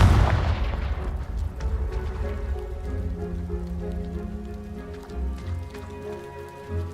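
In Hogwarts Legacy, a Confringo spell hits a pile of blocking debris with one sharp blast at the start, followed by a decaying rumble and a scattered clatter of falling rubble.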